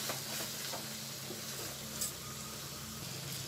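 Spiced masala paste of garlic and chilli sizzles in a pan with brinjal curry as it is stirred, a soft steady crackle with faint scraping, fairly quiet and with no talking.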